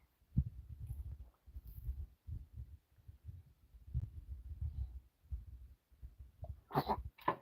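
Low, muffled thumping and rumbling run throughout, then a single sharp sneeze bursts out near the end, loud and close.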